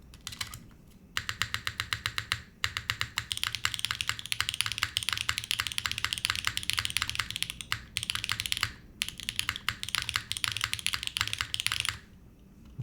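Mechanical keyboard switches on a Fuji75 clack in rapid, continuous typing bursts with a few short pauses, crisp and close, no speech.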